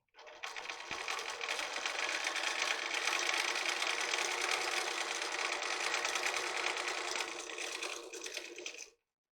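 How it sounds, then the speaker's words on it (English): A sewing machine stitching folded fabric strips for mask straps, running in one continuous fast whirring burst of several seconds before stopping, close and alone. "So you just sew a little ways, then pull it through."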